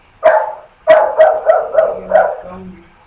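A dog barks in a quick series of about six loud, close barks, the first single and the rest in a steady run, ending with a lower whimpering tone.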